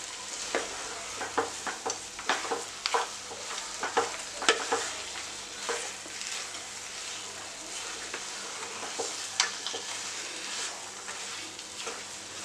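A spoon stirs pineapple kesari in a pan with ghee, cashews and raisins, giving repeated sharp scrapes and clicks over a soft, steady sizzle, close up and with no talking.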